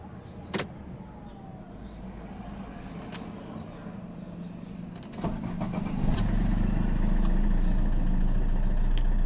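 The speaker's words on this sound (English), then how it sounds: "Now we'll start the car" A Fiat 1.3 Multijet diesel car engine cranks and catches after a few sharp clicks, then settles into a steady, close low rumble that holds to the end.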